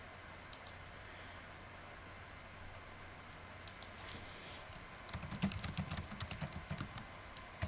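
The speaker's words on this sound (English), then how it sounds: "and enter a comment related directly to the text" Keys clatter on a computer keyboard while a comment is entered, with a few scattered taps at first and then a quick, dense run of close typing.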